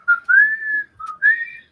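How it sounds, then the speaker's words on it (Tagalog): A melodic whistle in the style of Break Man's theme from the NES game Mega Man 3, most likely whistled by a person. It comes as several clear, sliding tonal phrases with short gaps, loud and close, with no talk around it. "May sumisipol din ba pag lumalabas si Breakman?"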